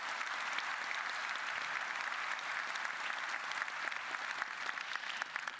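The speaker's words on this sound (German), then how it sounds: "Großer Applaus." A seated audience applauds steadily, a dense even wash of many hands clapping that holds at a moderate level and swells slightly toward the end.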